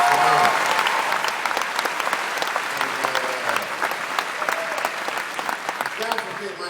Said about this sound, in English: I just want to give Alonzo a round of applause